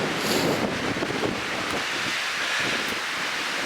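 Strong wind gusting to 40-50 mph roars and buffets the microphone in heavy, rushing gusts, loud and continuous, with no voices.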